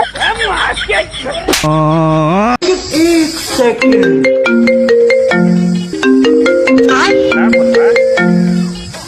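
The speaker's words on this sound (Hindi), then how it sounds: "कौन फोन आ रहे उठाओ।" A melodic phone ringtone plays loud and close, bright stepped tones repeating in a tune, with voice-like sounds mixed in at the start.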